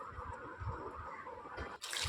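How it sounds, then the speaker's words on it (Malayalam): Water poured into a pressure cooker holding cucumber pieces with turmeric and salt, a steady close liquid splash and trickle that runs for about two seconds. "ഇനി ഇത് വേവാൻ ആവശ്യത്തിനുള്ള വെള്ളം കൂടി ഒഴിച്ചു കൊടുക്കുന്നുണ്ട്"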